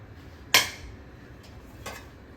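A spoon clangs against a pot while chicken biryani is mixed with masala: one sharp metallic clank, then a fainter scrape and a softer knock against a quiet background.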